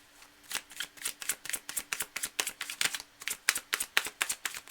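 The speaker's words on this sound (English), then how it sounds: "cards are well shuffled" A deck of tarot cards being riffle-shuffled by hand, a rapid series of crisp, evenly spaced flutters and snaps, close and distinct with no voices.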